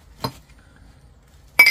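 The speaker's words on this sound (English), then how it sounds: "Oh, this glass. This looks like some more crystal." Crystal and cut glassware being handled, giving two short bright clinks about a second apart with quiet between.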